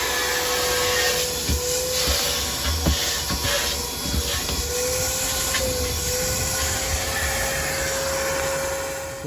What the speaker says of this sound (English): Vacuum that trash out.